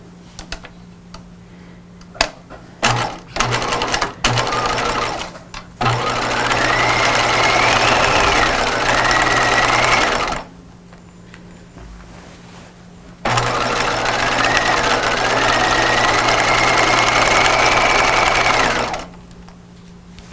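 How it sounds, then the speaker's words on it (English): A sewing machine runs in two long steady bursts while stitching a U-shaped crotch seam on pajamas, with a whirring motor hum, preceded by a few short clicks and brief starts before the first run and a pause in between. "now I'm going to sew along this crotch curve. So it's like a long U-shaped seam."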